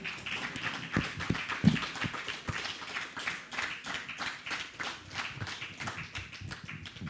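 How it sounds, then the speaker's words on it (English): Congregation applauding at a temple volunteer appreciation and thanksgiving feast, a steady patter of hand claps from a moderate-sized crowd spread through the hall, fairly soft and continuous. "So let's give a huge round of applause."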